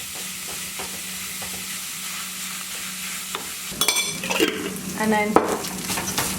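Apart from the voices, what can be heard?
stirring tomato paste into sambosa filling in a pan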